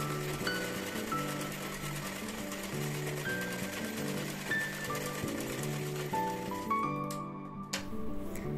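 Sewing machine running steadily while stitching a princess-cut blouse, a continuous fast mechanical whir with needle chatter that slows and stops near the end, heard close with no talk.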